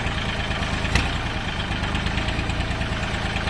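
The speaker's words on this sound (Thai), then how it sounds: "ดูเครื่องยนต์ครับ" Used Kubota tractor engine idling with a steady low rumbling throb and rhythmic knocking pulses, close and continuous, with no talk over it.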